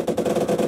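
Rear turret machine gun firing in the Call to Arms: Gates of Hell Ostfront war game, a dense continuous stream of rapid shots mixed with battle noise, loud and steady throughout.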